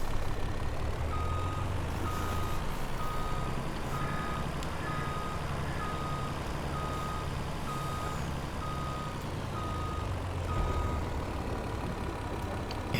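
A lorry turns and backs up in Farming Simulator 22, its steady diesel rumble running beneath a regularly repeating reversing beeper for the full stretch, close and continuous.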